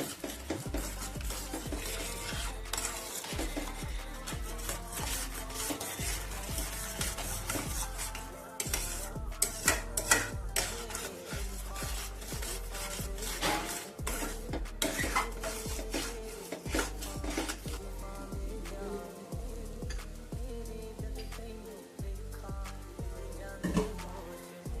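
Beaten eggs with salt whisked in a bowl, a utensil tapping and clinking against the sides in a quick repetitive rhythm, close and steady throughout with a few louder knocks.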